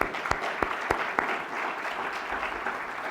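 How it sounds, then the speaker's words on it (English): An audience at a hospital expansion event breaks into a round of applause, dense steady clapping with a few sharp nearby claps early on, continuing loud throughout. "Can we give her a round of applause?"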